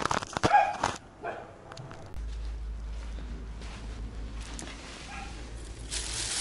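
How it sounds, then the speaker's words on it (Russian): Dogs barking in a village yard on a hot day, a few sharp barks at the start, then quieter distant yips over a low hum. "Собачки разлаялись."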